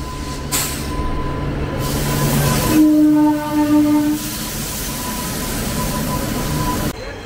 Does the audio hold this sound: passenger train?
yes